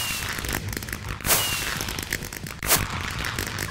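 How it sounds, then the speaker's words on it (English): Fireworks explode in a Minecraft-style building game, with loud crackling bursts at about 1.3 and 2.7 seconds over a steady, busy background of sparkling pops. "Freaking fireworks!"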